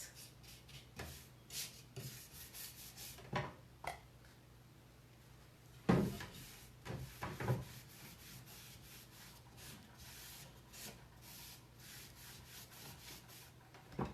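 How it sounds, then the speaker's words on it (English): Clear furniture wax brushed and rubbed over painted furniture, quiet intermittent scrubbing and rubbing strokes with a few soft knocks, close by and without talk. "So I'm now going to put on a tad bit more clear wax, just super quick before my black wax."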